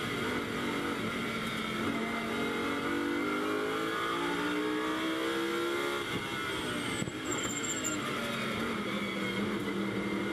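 Lamborghini Super Trofeo race cars at the Nürburgring roar loud and continuous, engines revving and sweeping in pitch as the cars race past, with a layered howl filling the whole stretch.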